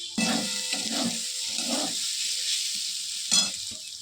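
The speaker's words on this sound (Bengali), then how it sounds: "কচুর লতি ভাজা চলছে" Taro stolons (kochur loti) fry in oil in a pan with a close, crackling sizzle, broken by bursts of stirring and scraping.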